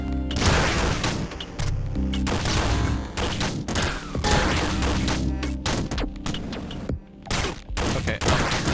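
Rapid, dense shotgun blasts in the Downwell video game, loud repeated bursts almost continuous over a thumping game soundtrack, with no voices.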